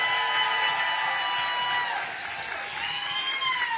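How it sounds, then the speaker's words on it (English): An audience at a Democratic political counter-event breaks into steady applause mixed with cheers and whistles, holding a dense, continuous roar for the full few seconds with no talking. "Let's give them a round of applause"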